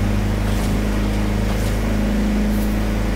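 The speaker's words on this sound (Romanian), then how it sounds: "Îmi place cum sună motorul diesel." A Mercedes van's diesel engine in the Forza Horizon 4 video game drones steadily and loudly, a continuous low rumble with no pauses or voices.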